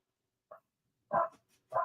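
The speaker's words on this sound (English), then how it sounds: "Sorry, y'all, if y'all hear my dog barking." A house dog lets out a few short barks, one small yip followed by two louder barks, heard alone at moderate distance indoors.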